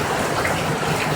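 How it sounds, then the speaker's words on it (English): Heavy rain pours outdoors in El Salvador, a dense loud close hiss of water with no gaps and no voices. "But the rain is loud."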